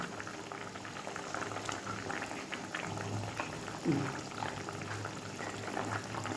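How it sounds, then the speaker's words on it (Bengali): A pot of curry broth with potato and fried eggplant boils steadily, giving a continuous soft bubbling and hiss that stays fairly quiet and even throughout, with one slightly louder bubble burst midway. "এই ঝোলটা ফুটে উঠলে, মানে আলুটা সেদ্ধ হলে"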